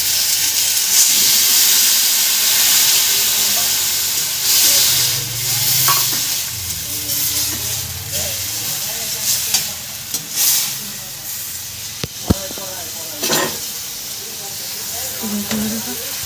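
Ridge gourd fries in a pan with ground salt, turmeric, ginger, cumin and chilli paste. It hisses and sizzles steadily, broken by close stirring and scraping and a sharp clink.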